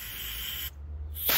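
A short hissing burst of carb cleaner sprayed onto a Troy-Bilt pressure washer carburetor, a steady spray cut off abruptly, then a brief second spurt, close up with no talk.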